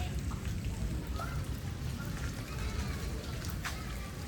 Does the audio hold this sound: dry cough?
no